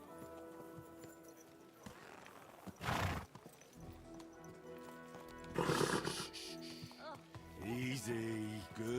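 A horse in Kingdom Come: Deliverance II whinnies and snorts with soft hoof sounds, over a low musical bed with a couple of louder bursts around them.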